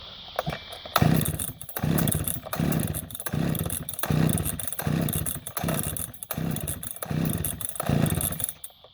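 A flooded chainsaw being pull-started over and over with the choke left on: about eight rhythmic, loud rasping pulls a second apart, each a short surging burst of the engine, close up with no talking.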